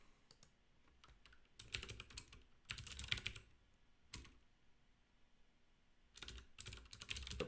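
Bursts of fast typing on a computer keyboard during a live coding session, clicking keys in short clusters separated by quiet gaps, close and alone.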